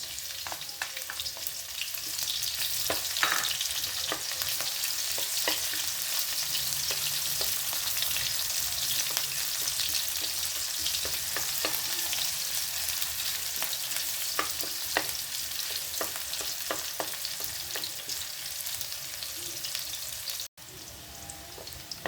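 Garlic and onion sauté in a home kitchen pan for a stir-fried radish, tomato and chicken dish, giving a steady close sizzle with scattered crackles and occasional stirring scrapes throughout, ending with a brief cut near the end.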